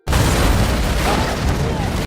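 Film explosion of a limousine hit by a homemade bomb made from an alcohol bottle, shotgun-shell contents and lithium batteries: a loud, sustained roaring blast that fills the whole moment from start to finish.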